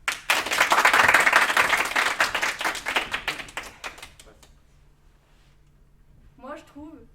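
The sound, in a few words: audience applause after a speech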